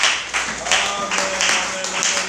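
A church congregation claps in quick, rhythmic bursts, the close, bright applause mixed with voices.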